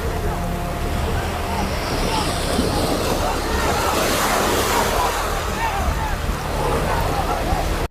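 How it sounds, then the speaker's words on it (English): Steady outdoor rumble of wind and engine with a busy crowd babbling throughout, as a packed boat pulls away at sea over the surf. "now you can see the packed vessel is about to take off"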